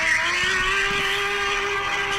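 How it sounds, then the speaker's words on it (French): A car engine runs at a steady drone with a sustained tone and broad roar, loud and continuous, with no talking over it. "C'est les top 10 des sons de moteurs de char."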